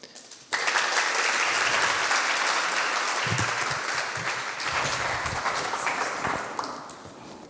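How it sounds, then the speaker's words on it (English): A lecture-hall audience gives sustained applause for an incoming guest at a literary translation event, a dense, steady wash of many hands clapping together that begins abruptly, holds loud for several seconds and tapers slightly toward the end. "please welcome our next guest with a big round of applause"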